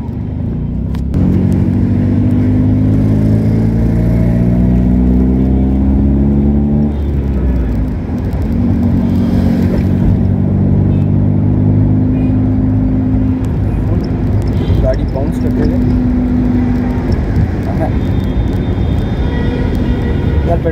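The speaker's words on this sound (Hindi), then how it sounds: "पेट्रोल पे इस गाड़ी को जितना चलाने का मज़ा है" A Nissan car with a 1300cc engine drives and accelerates, its engine whine climbing through the gears in rising tonal sweeps over steady road and cabin rumble, heard close from inside the car, with people talking at times.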